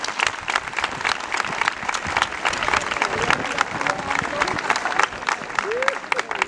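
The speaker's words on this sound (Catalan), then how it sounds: "Un aplaudiment per ells, primer." Sustained applause from a crowd at a secondary school graduation ceremony, dense clapping that holds steady for several seconds with a faint murmur of voices underneath.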